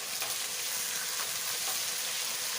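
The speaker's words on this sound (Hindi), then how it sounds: "सबसे पहले हम इसमें ज़ीरा डालेंगे और हल्का सा फ्राई करेंगे।" Meat fries with cumin seeds in a pan for a murgh cholay, giving a dense, even sizzle that holds at a steady loudness throughout, with no voices.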